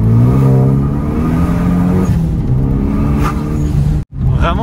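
Renault Mégane RS with a 360 hp engine revving hard close by, a loud rising and falling roar with a sharp pop near the end, and voices talking over it.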